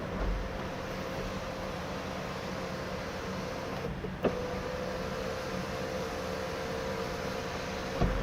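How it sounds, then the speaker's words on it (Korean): A car's sunroof motor runs with a steady electric hum for several seconds inside a quiet car, with a brief click near the middle and another at the end. "썬루프 작동 잘 되고 있었습니다"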